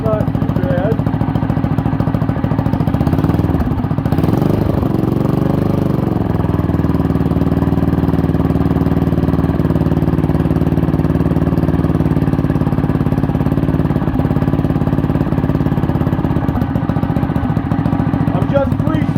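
Small mini bike engine idling up close with the rear wheel free spinning, a loud steady chugging drone with a brief rev and wobble early on, then settling back to an even idle.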